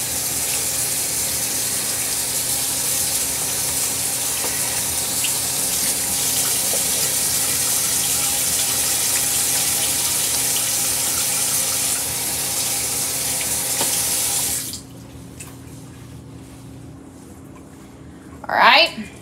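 Water runs steadily from a tap during handwashing in a home kitchen while preparing a roast turkey, a continuous loud gush that stops abruptly near the end, followed by quiet and a brief clatter.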